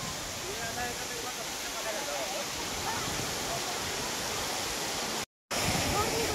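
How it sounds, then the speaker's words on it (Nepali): The long Jalbire waterfall in Chitwan roars in a steady, broadband rush of falling water, loud and continuous, with a short gap near the end. "यो लामो झरना जलबिरे इच्छा कामना चितवनमा पर्दछ।"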